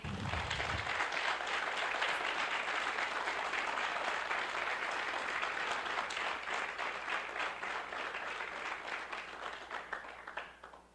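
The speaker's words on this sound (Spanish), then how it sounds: "Vamos a darle un aplauso a la persona del Espíritu Santo." A church congregation bursts into sustained applause, dense clapping that stays loud for several seconds before gradually thinning out.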